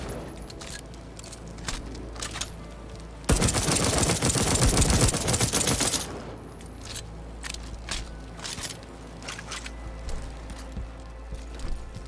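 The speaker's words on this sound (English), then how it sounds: "Squeeze to shoot, hold to aim, R to reload" A loud sustained burst of automatic gunfire from Deathloop lasts about three seconds, bracketed by quieter clicks and handling noises in the game.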